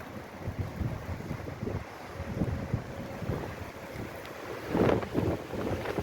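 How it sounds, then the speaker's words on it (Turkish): Strong storm wind with sleet and snow roars steadily against the microphone, a dense low rumble with gusts that swell and fade, no voices. "Rüzgar çok aşırı derecede."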